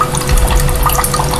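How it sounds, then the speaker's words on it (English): Tomato soup with a thin, very liquid consistency is poured into a pot, giving a close, continuous gurgling, splashing flow for a moment with no talk. "let's pour it into our pot."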